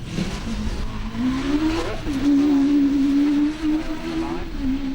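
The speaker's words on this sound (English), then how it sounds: "away he goes, the car vibrating quite well" An early MG class sports car pulls away at Donington Park, its engine droning and rising in pitch as it accelerates and then holding a steady, vibrating note, fairly close and loud, with faint background talk.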